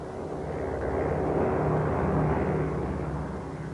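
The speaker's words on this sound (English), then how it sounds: "If that was a supply plane" A propeller supply plane flying overhead in wartime Pacific skies, a steady droning engine roar that swells toward the middle and eases slightly at the end, heard alone.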